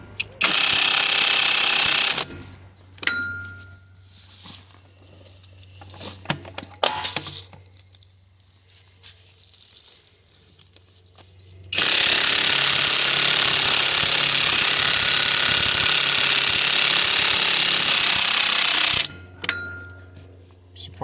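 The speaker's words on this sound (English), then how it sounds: "Just loosening up this hub so that we can slide the wheel in so it'll fit on my trailer." A John Deere 60 tractor's wheel hub is loosened with a power impact tool, giving two long, loud, steady hammering bursts with quieter metallic clinks and handling sounds between them.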